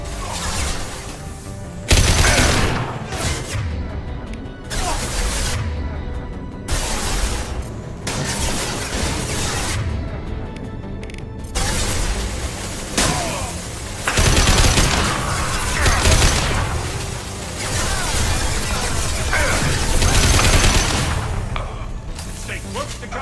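Sustained video game firefight with bursts of automatic gunfire and mechanical weapon clatter, loud and continuous, with booming impacts scattered throughout.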